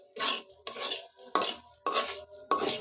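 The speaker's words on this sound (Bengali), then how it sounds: "আমি কিন্তু কাঁচামরিচ দিয়ে কালি জিরা ভর্তাটা করছি, হেভি টেস্ট হবে বন্ধুরা। একটু ভেজে নিচ্ছি," Black cumin seeds and green chilies are being dry-fried in a pan for a mash. A spatula scrapes and stirs in five regular close strokes, each with a brief sizzle, with short quiet gaps between them.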